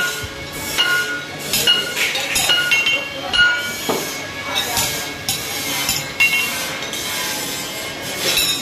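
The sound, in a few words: metal grill fabrication work in a workshop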